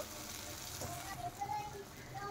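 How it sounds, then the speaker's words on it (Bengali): Spice paste stirred into hot oil in a pan for a paneer dish, a steady close sizzle and frying hiss with faint stirring scrapes throughout. "ভালো করে একটু তেলের সাথে মিশিয়ে দিলাম"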